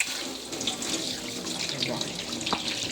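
Water runs steadily from a newly fitted kitchen tap into a sink, a continuous close hiss and splash with no pauses.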